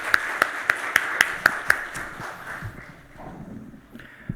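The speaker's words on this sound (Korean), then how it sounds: "우리를 회복시키시는 하나님을 우리 다시 한번 박수로 찬양하겠습니다." A church congregation claps in unison, about seven sharp, evenly spaced beats that then trail off into soft room murmur and shuffling.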